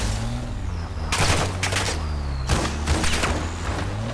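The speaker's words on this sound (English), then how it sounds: "Taking effective fire." Rapid gunfire bursts in Call of Duty Warzone DMZ, several loud automatic volleys crackling over a constant low rumble of the game's battlefield ambience, close and intense.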